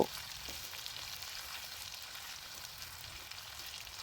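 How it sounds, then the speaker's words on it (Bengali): Chopped onions fry in a pan while being stirred steadily, giving a soft, continuous sizzle with faint scraping under it and no talking. "পেঁয়াজ কুচিটাকে অনবরত নেড়ে চেড়ে একটু লালচে হওয়া অবধি ভেজে নেব"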